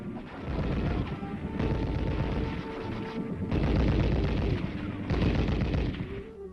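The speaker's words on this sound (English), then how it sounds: "Theory first with the heavy machine guns, and then practice." Heavy machine guns firing on a practice range, sustained rapid chattering bursts in long loud stretches with brief slackening between them, dense and continuous throughout.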